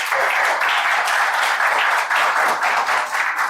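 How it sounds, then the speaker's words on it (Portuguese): Company audience at a business talk applauding the sales department, a loud, steady round of many hands clapping with no talk over it. "agora os outros vão ter humildade e vão dar uma salva de palmas para o setor de vendas."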